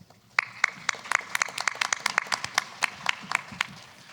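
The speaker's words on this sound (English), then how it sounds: "So give yourself a round of applause." Scattered audience clapping at a small business talk, a few dozen distinct sharp claps in loose rhythm from a modest crowd, tapering off after a few seconds.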